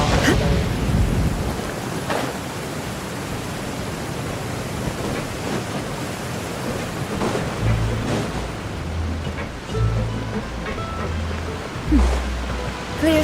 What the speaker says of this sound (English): The rain is strong.